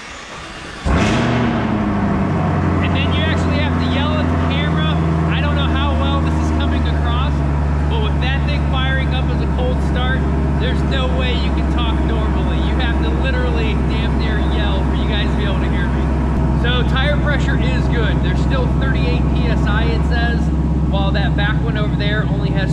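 A 2022 Camaro ZL1 1LE fires up with a sudden loud exhaust bark, then settles into a deep, rumbling idle that holds steady close by, with a voice talking over it.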